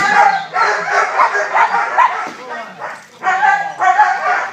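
Young personal protection dogs bark and yip repeatedly in quick overlapping bursts, loud and close, with a short pause before the barking resumes.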